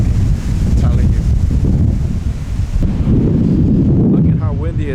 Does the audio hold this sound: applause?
no